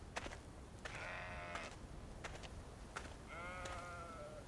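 Sheep on a Montana ranch bleat several times in quick succession, with wavering, harmonic-rich calls that stand out clearly over steady outdoor ambience.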